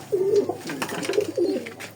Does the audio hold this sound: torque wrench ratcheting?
no